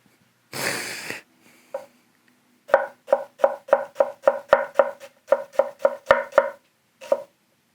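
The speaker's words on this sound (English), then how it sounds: "I diced an onion with a glove on" An onion is diced on a board with a Hatsukokoro Kayabusa Ao Migaki 180mm bunka knife: a short scraping sweep, then a quick run of about sixteen crisp, evenly spaced chopping taps, close and clear.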